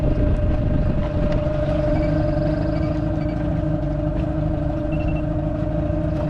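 Motorboat engine on Robertson Lake, a steady, sustained low droning roar with a constant pitch, close and moderately loud, running alone without talk.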